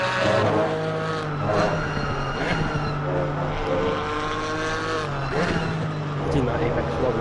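GT4 race car in Assetto Corsa Competizione at Misano, its engine whining and shifting steadily as it runs past the start-finish line, with commentary talking over it throughout.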